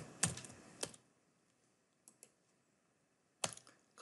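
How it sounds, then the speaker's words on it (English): Keys on a computer keyboard are tapped in a few sparse, crisp clicks, one near the start, a faint one in the middle and another near the end, close up in a quiet room. "I'll go over there and I type"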